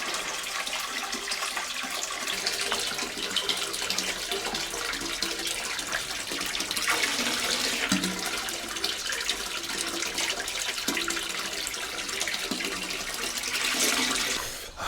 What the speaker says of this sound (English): Oh look, it's a little roadside water fountain.